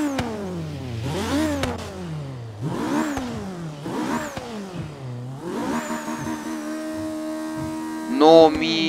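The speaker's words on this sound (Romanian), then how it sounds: "un motor care sună parcă e de raliu" A rally-style car engine of over 500 kilowatts in Forza Horizon 3 revs hard in repeated rising and falling sweeps, climbing high before each gear drop, then settles into a steady high drone with a short burst near the end.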